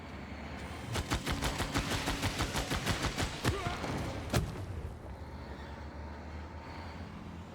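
Ranged unit firing in Civilization VI, a rapid volley of sharp gunfire-like cracks repeating for about three seconds, then a couple of louder isolated shots before fading into quieter ambient game sound.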